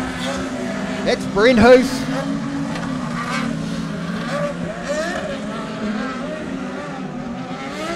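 Midget race cars roaring around a track, engine drone rising and falling as cars pass, with a brief tire squeal early on, under an announcer's commentary.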